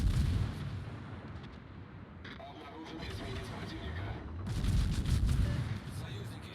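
Warship guns fire high-explosive shells in the naval video game World of Warships, a series of heavy booming shots over a continuous low rumble of ship and sea ambience.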